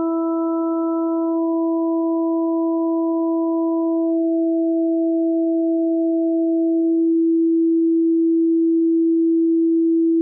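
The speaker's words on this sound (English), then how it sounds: "now it's smooth around and sine wavy" A steady, pure sine tone hums continuously, with faint higher overtones fading away one by one until only the smooth single tone remains.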